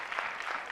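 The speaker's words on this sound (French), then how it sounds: "On va applaudir M. Nabaloum." Brief burst of audience applause for a student at a café-style discussion event, a dense patter of many hands, moderately loud and short.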